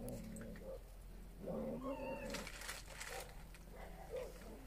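A cat at an animal shelter meows and caterwauls in several drawn-out, wavering cries, close and fairly quiet, with a faint steady hum underneath.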